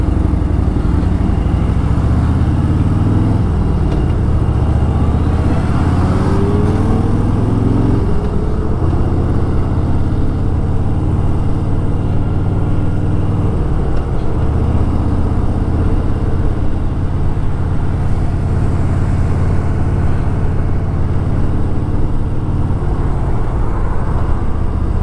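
A Harley-Davidson Fat Boy motorcycle rides steadily along the road, its engine a loud, continuous low rumble with gear changes and shifting revs and wind noise, with no talk over it.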